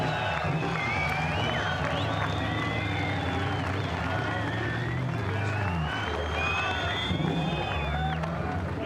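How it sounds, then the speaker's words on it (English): A packed grandstand roars and cheers for race driver Greg Murphy at the 2001 Shell Championship round at Pukekohe International, a loud, continuous crowd din with whistles that holds steady throughout. "Well, the cheers go up for Greg Murphy,"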